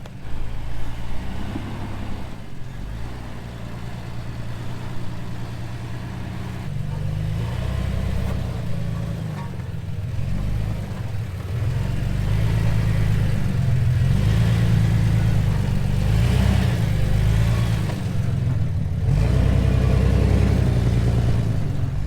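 An off-road vehicle grinds slowly over tall rocks, its mid-pitched engine rumbling and revving in uneven surges across a long stretch, steady and fairly close, with no voices.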